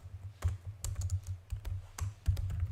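Code being typed on a computer keyboard, a quick uneven run of close, crisp key clicks with no talk.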